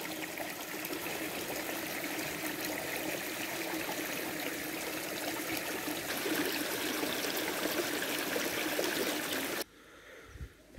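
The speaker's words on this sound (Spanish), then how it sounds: "Riachuelo." A small stream flows through spring countryside near Granada, Spain, its close, steady babbling rush continuing evenly before cutting off abruptly near the end.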